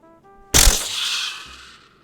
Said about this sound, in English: The gunshots in his head.